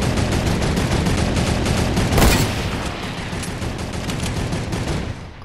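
Turret gunfire in the video game Food Wars rattles in a dense, loud, continuous burst of rapid shots with a heavier blast midway, then tapers slightly.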